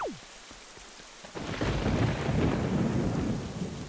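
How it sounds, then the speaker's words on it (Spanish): Rain pours in The Wind Waker HD video game, a steady loud hiss that swells in after a quiet start, with a low rumble of thunder rolling underneath. "Bonita noche, ¿verdad? La lluvia tiene su atractivo,"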